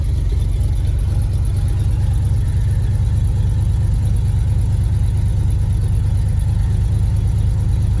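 A 1971 Ford F250 Highboy idles after a cold start with its idle set low, giving a steady, close, even engine rumble with no break for the whole stretch.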